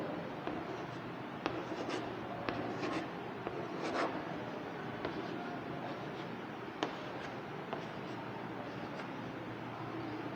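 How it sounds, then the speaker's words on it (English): Pen or pencil writing the multiplication table of 2 by hand on paper, a steady soft scratching with faint taps over a quiet room background, no talking. "Now I am writing the table of 2."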